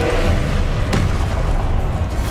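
A Confringo fire spell bursts in the Hogwarts Legacy video game with a single sharp blast that rises briefly above a steady, dense rumble of combat noise.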